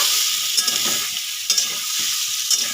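Boiled shukto vegetables tipped with their cooking water into a hot pan for sautéing: a loud, continuous hiss and sizzle up close, broken by a few sharp scrapes of stirring.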